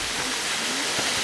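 A waterfall on a forest trail rushes in a steady, loud, close roar for a brief moment.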